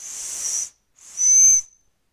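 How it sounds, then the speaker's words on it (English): Two shrill whistle blasts from a small toy parrot whistle out of a pirate chest, the first a breathy hiss-like tone, the second after a short pause a louder, clearer pitched shriek, close and alone. "it's a little parrot with a little whistle thing coming"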